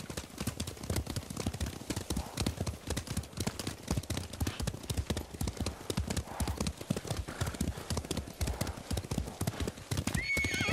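A horse gallops in Ghost of Tsushima, its hooves pounding in a fast, steady clip-clop rhythm close by, with a whinny breaking through.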